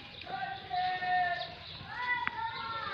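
A two-tooth goat bleats at a farm, with several thin wavering calls, some drawn out, heard at moderate distance. Someone talks through part of it over faint background noise.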